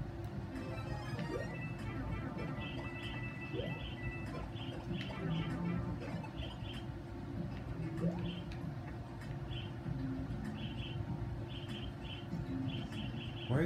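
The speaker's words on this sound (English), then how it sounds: "Why is there a bird on my head?" A bird in Super Mario Maker chirps in repeated short, bright tweets against busy game sounds, with a person talking over it.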